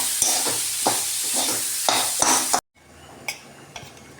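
A boiled potato filling for masala dosa is mixed in a pan with scraping, stirring strokes over a soft sizzle. A brief silent cut is followed by quieter stirring and a few light clinks.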